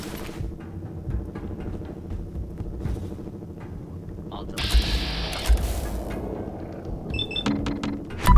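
Weapon cranking in Fallout 4, set inside the Boston Public Library: a burst of mechanical ratcheting and whirring rises midway over steady game ambience and music, with a few sharp clicks near the end.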